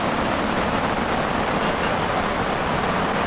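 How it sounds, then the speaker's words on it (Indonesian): Steady rain falls in an even, dense hiss that stays constant throughout, with no voices or other sounds breaking through. "Dan suasana hujan cukup syahdu guys."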